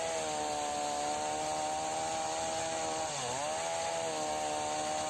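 A small chainsaw with an 11.5-inch bar cuts tamarind wood, its engine a loud, continuous buzzing drone with a brief dip in pitch as it bogs into the cut, then steadies again.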